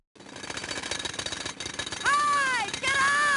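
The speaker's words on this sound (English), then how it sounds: "Never try and talk while you're using a jackhammer." A jackhammer in the Sega CD game Kids On Site rattles in fast, steady machine-like pulses. Partway through, a voice speaks over it and is warbled by the shaking.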